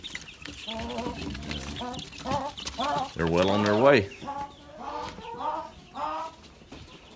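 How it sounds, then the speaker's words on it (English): Leghorn chickens cluck and squawk in a busy barnyard, with a loud flurry of calls in the middle, while a person speaks briefly over the birds. "they'll start hearing the sounds of the barnyard and the chickens where they'll live"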